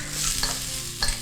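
Carrots being stir-fried in a hot pan give a steady close sizzle, with a couple of brief scraping stirs of the spatula cutting through. No voices are heard.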